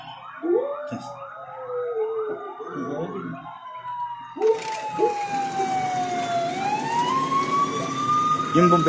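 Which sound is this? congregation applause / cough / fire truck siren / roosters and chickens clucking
fire truck siren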